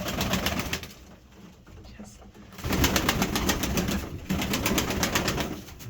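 Serpasti pigeons coo in a tidy pigeon loft, a steady murmur of soft calls running throughout over a windy background, with people talking nearby.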